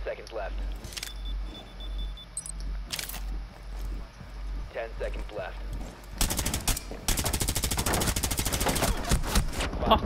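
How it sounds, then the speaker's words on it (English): Bursts of automatic gunfire from the video game Rainbow Six Siege crackle in rapid volleys, sparse at first and then dense and loud in the second half, with occasional voices between shots. "I shot the crap out of that guy, he should have been down."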